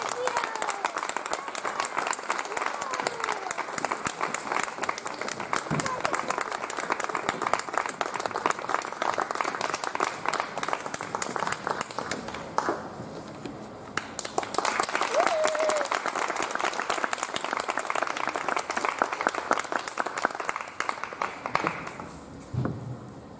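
An audience applauds to welcome a soprano and a pianist at a concert, with sustained clapping that thins out midway, swells again and then tapers off.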